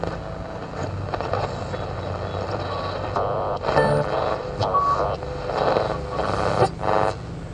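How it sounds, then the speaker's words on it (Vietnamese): Sony radio switched to the AM band, with a noisy hiss and crackle of static mixed with faint broadcast sound that swells and fades unevenly, close and fairly loud. "Tôi sẽ mở phần AM. Con này có 3 băng sóng AM,"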